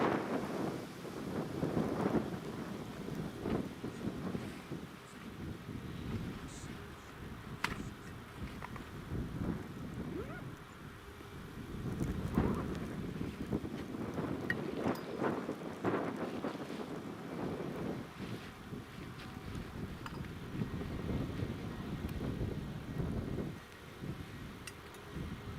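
Strong wind during Storm Lilian at Newcastle International Airport, a continuous low rumbling gusty roar buffeting the microphone for the whole stretch, with swells and lulls and no voices.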